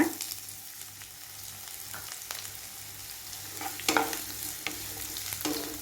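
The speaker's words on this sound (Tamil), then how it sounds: "வெங்காயம் நல்லா ஃப்ரை ஆகி வரட்டும்" Chopped onions frying in sesame oil with mustard seeds, a soft, steady sizzle punctuated by occasional spatula scrapes and clacks against the pan, growing busier toward the end.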